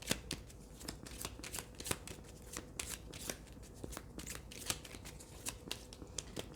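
Tarot cards shuffled by hand, with a quick series of crisp riffling slaps and flutters repeating in short bursts, close and fairly quiet.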